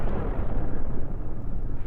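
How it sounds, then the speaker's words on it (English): An explosion in the space-ship game Cosmoteer, a loud, dense rumbling blast that fills the short moment without any voices. "Oh, that explosion didn't do much."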